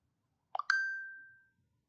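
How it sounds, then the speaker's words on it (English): Phone notification chime, a single short two-note plop followed by a clear ding that rings out and fades over about a second, alone in near silence. "I got a notification on the phone."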